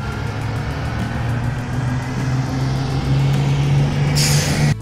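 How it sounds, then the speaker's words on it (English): Bus engine running with a low, steady rumble and hum, followed by a brief hiss of air brakes near the end; no voices. "Bus."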